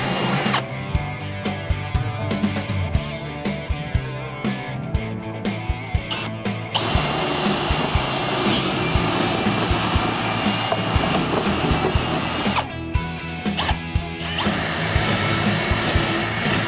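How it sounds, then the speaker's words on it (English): A power drill bores a hole in a wooden cornhole board, whining loudly and steadily with short pauses and changes in pitch between bursts, close to the microphone and without talk. "So we're gonna drill a hole here"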